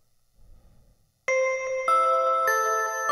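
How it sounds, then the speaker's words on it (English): Bells ring out in an over-the-top Christmas music production, bright sustained chimes entering after a quiet start and struck again in a steady pattern, loud and clean with no talking. "this is the chorus bell thing that comes in here"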